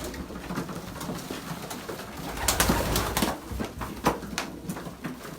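Racing pigeons coo in a loft, soft throaty calls overlapping against a busy background of fluttering and shuffling, with a few sharp clacks and wing flaps.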